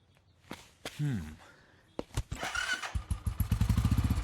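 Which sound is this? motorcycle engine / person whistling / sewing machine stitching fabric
motorcycle engine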